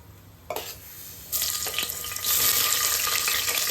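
Spices spluttering in hot oil, for a soya chunk biryani: a crackling sizzle that starts suddenly, grows louder in steps, then holds as a close, dense frying hiss, with no talking.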